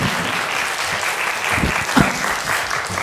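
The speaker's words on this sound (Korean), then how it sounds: "네, 박수 한 번 더 크게 쳐주세요." A church congregation at a Sunday service applauds in a full, sustained round of clapping, with one brief louder burst near the middle.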